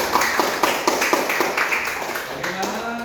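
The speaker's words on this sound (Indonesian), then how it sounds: "Oke, tepuk tangan untuk kita semua." A classroom group of students applauding together, a burst of brisk overlapping hand claps that rises, holds for a few seconds and fades as murmuring voices come in.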